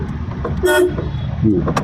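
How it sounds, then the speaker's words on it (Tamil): Two short car horn toots from a driving-school car sound over a loud rumbling engine and road noise, with a voice briefly audible underneath. "ஹார்ன் அடிச்சுங்க"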